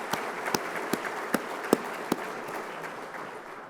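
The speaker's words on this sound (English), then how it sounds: "Let's give those folks a round of applause." A crowd applauds gold sponsors at an awards ceremony, with continuous clapping from many hands and a few louder individual claps punctuating it at a roughly regular pace before the sound tapers off.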